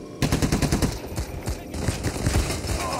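Rapid bursts of gunfire from a shotgun in the video game Payday crack out close and loud, several shots in quick succession over a busy in-game background.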